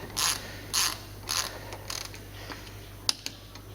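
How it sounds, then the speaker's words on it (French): A 17 mm ratchet wrench loosening a brake caliper bolt on a Renault Laguna gives several quiet, evenly spaced clicking bursts, then a few sharper ticks, with no talk. "on voit le boulon qui va tourner, on insère notre clé de 17"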